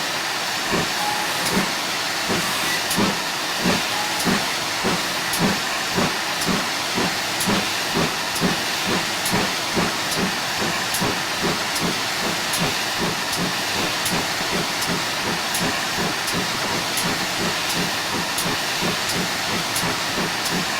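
A GWR Hall class steam locomotive sets off on the West Somerset Railway, its exhaust beats chuffing in a steady rhythm over continuous steam hiss, close and loud throughout.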